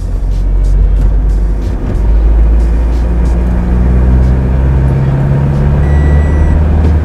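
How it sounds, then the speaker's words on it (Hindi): A Toyota Innova Crysta 2.4 VX engine in power mode gives a steady, loud, low rumble close by, holding an even drone without pauses or voices. "जैसे मैं इसको प्रेस करूंगा तो गाड़ी का साउंड ही बदल जाता है"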